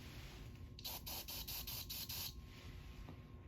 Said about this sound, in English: I'm going to activate the smoke detector by just spraying some smoke